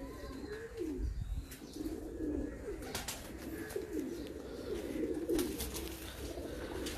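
An older breeder pigeon gives repeated low, throaty coos in wavering phrases over several seconds, fairly soft, with scattered clicks and rustles and a low background rumble.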